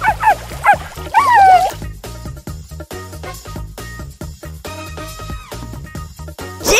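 Cartoon dog Mr. Puppy Paws from the SuperKitties video game barks and yips in short, high bursts near the start, then the sound gives way to bouncy game music that carries on steadily.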